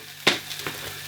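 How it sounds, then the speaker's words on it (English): Onions frying in a pan, browning toward charred, give a brief burst of sizzle followed by a softer steady crackle and a second small flare, close by with no talking. "Gonna fry them up for like 10 minutes, soften them, brown them a little bit."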